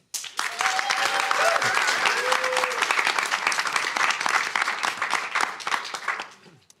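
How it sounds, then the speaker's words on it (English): An audience at the MIT entrepreneurship pitch competition applauds a third-place winner, a sustained burst of dense clapping that swells quickly, holds steady and tapers off, with a voice briefly over it. "Our third place winner, congratulations, goes to Ikonda."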